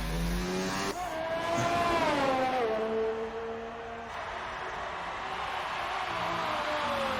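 Race car engine from an F1 video game at the Singapore circuit, a sustained high-pitched whine that climbs and falls through gear changes over a lap, loud and continuous with no talk.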